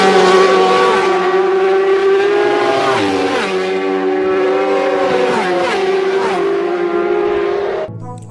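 A toy racing motorbike plays its engine sound effect, a loud, tonal electronic revving that rises and falls in repeated surges before cutting off abruptly.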